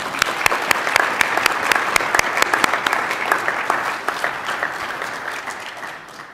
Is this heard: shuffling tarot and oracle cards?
no